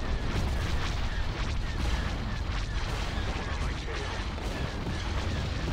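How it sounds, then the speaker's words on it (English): Missiles and proton torpedoes pounding an Imperial Star Destroyer in a space battle game: a dense, continuous roar of overlapping blasts and rumbling impacts, loud and sustained with no clear gaps. "And proton torpedoes."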